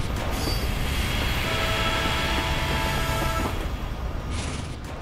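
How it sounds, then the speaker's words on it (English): A train carrying a saw and laser rumbles along a railway on a video game map, a loud continuous heavy roar with faint metallic tones that fades slightly at the end. "a train carrying a saw and laser will travel across on occasion"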